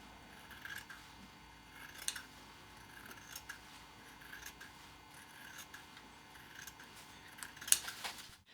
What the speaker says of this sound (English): I simply use my scissors to cut away the excess interfacing around the block